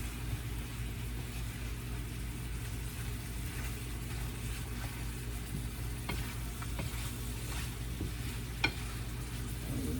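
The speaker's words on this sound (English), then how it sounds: "I'll just use this wooden spoon to stir it." A wooden spoon stirs pork chops sizzling in a metal pan, a soft, continuous frying hiss with faint scraping and a few small clicks, steady throughout with no talking.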